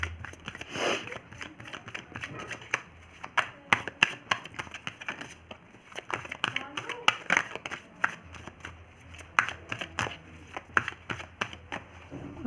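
Tarot cards being shuffled close up in a quiet room, with repeated soft riffling bursts and crisp card taps coming in irregular clusters, moderately faint.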